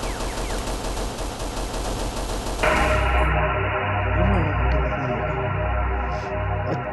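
Gunfire from a gun mod in a Minecraft horror playthrough: dense, loud bursts of rapid shots that shift after a few seconds into heavier, booming repeated blasts under game ambience.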